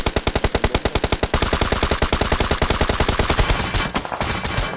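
M4 rifle fire in a video game, with rapid, loud sustained automatic bursts that run almost continuously and fade briefly at the end.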